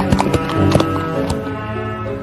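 A horse heard up close with rapid, uneven hoofbeats and a loud neigh near the start, settling into a fading whinny and breathy snorts.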